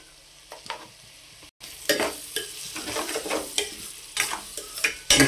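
Onion pieces fry in a pan for a drumstick and egg curry, a constant soft sizzle broken by scraping stirs, one brief break in the sound, then louder sizzling bursts as the onions are turned.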